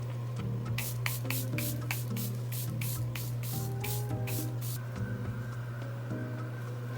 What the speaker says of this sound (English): we're gonna go with our last layer of setting spray just so it sticks